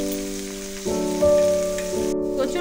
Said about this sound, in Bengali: সব কিছুকে একটু ভালোভাবে ভাজা ভাজা করে নিচ্ছি।